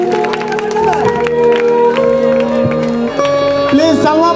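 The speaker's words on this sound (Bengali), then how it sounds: "ছাত্রী তো জোরে হাততালি আমাদের সালমা আপুর জন্য" A crowd of students at Rajshahi University clapping and cheering loudly for Salma, a dense, sustained round of applause with voices calling out through it.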